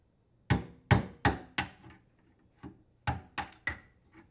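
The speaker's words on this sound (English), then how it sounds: "you will need to knock out the drain tube plug using a screwdriver and hammer" A hammer strikes a screwdriver to knock out the drain tube plug on a garbage disposal during a dishwasher install, eight sharp metallic knocks in two uneven groups, close and clear against near silence.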